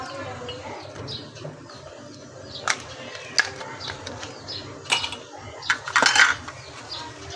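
Ice cubes dropped into a glass of lemon water being made at home, giving a few sparse, sharp clinks and clatters spread over several seconds against a low background hum.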